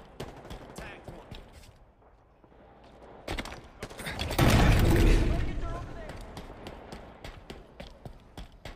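Gunfire in a video game, a burst of rapid shots swelling to a loud dense peak midway, with scattered sharp clicks and impacts before and after amid game action.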